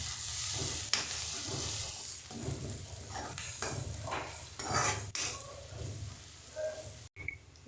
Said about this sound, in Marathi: अर्धा चमचा हळद टाकते अर्धा चमचा गरम मसाला पावडर टाकते हे सगळं आपण मिक्स करून घेऊ